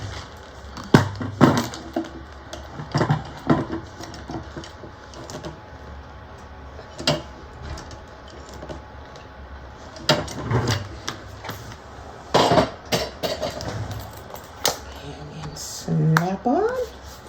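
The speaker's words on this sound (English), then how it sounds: "I'm going to unsnap this so that I can set my rivets." Rivets being set on a small handmade craft item with a series of sharp hammer taps in short clusters, close and fairly loud, spread across the span with a brief voice near the end.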